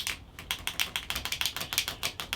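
Rapid, even tapping from the valve clearance of a 125 motorcycle engine, a fast run of light metallic ticks close by, about seven per second, with no talking.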